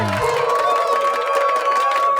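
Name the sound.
crowd cheering and clapping sound effect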